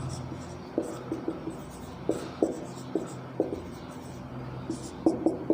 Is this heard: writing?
yes